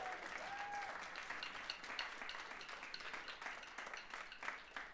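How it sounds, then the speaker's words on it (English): An audience applauds steadily at a St. Olaf College taiko concert, with dense clapping that is fairly soft and distant and holds even for the whole stretch. "we can applaud for that too"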